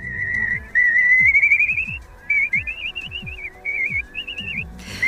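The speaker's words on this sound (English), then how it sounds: "that's a recording of the slender-billed curlew, a sound that will never again be heard in real life" Slender-billed curlew calling in a recording, a series of rising, warbling whistled notes repeated in bursts over about five seconds, clear and fairly loud, with low thumping noise underneath.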